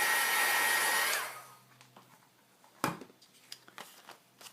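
A hair dryer blows on a glued index card with a loud steady whir for about a second, then cuts off, leaving faint clicks and taps of handling.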